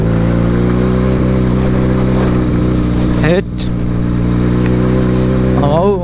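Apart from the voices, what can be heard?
Benelli 300cc motorcycle engine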